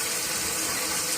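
Cold water runs from a tap in a steady, close gush, used for dyeing a T-shirt, loud and continuous with no talk.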